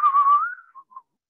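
A person whistles to imitate the screech of a fax machine, a sustained tone sliding slightly upward, then two short separate chirps, close and clear with no talk.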